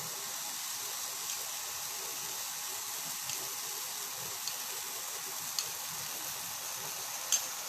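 Tomato puree bubbling and sizzling in a pan, a faint steady hiss with a few soft clicks and taps scattered through it.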